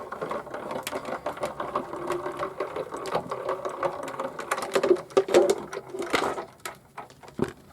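A paper card being cranked through a manual embossing machine inside an embossing folder, giving close, uneven mechanical clicking and ratcheting with grinding rolls throughout.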